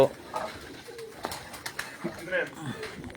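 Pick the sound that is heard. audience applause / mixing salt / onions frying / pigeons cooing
pigeons cooing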